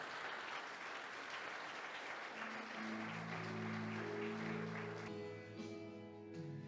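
Church congregation applauding together in a sustained, dense burst of clapping that carries on throughout, with sustained organ or keyboard tones rising beneath it in the second half.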